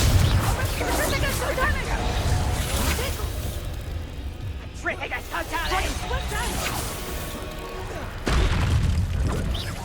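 In the Hogwarts Legacy video game, a Confringo blasting spell explodes amid dense combat noise, with booming impacts and clattering effects under a continuous talking voice.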